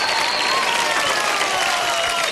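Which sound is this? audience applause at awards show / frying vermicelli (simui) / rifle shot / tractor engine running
audience applause at awards show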